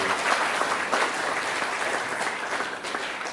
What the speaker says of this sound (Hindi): इन सबों को जोरदार से तालियां बजाकर धन्यवाद